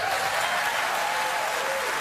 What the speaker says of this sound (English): Even the cover gets applause.